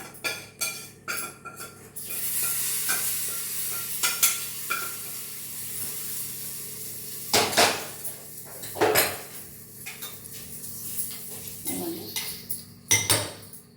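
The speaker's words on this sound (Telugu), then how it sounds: "తాలింపు ఇందులో వేసేసుకోండి." Tempering goes into a dish in a home kitchen pan and gets stirred, with repeated metal spoon scrapes and clinks against the pan over a soft sizzle, loud close strokes coming in irregular bursts.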